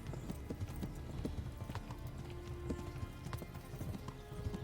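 Horse hooves clip-clop in a medieval video game, a steady stream of quiet, close hoofbeats over soft background ambience with no talk.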